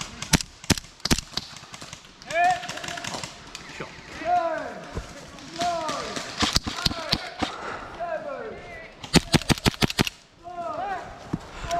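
Airsoft guns fire at an outdoor skirmish field, with sharp rapid bursts of snapping shots at the start and end and scattered single pops in between, while players shout and talk loudly throughout.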